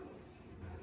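Crickets chirp faintly in a quiet room near a croc skink enclosure, giving two short, high, thin trills in a brief, hushed moment.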